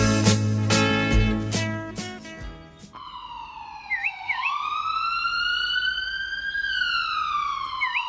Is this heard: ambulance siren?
yes